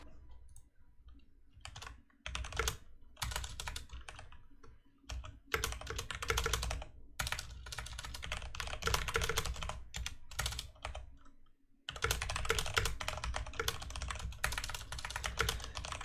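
Rapid typing on a computer keyboard during a live esports match broadcast, a dense, close stream of clicking keystrokes with brief pauses, heard alone without talk.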